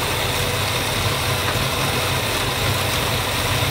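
A 1957 Ford Ranchero engine idles with a misfire, fitted with a Chevy distributor and suspected of an electrical fault, giving a loud, steady, close-up rumble that runs unbroken throughout.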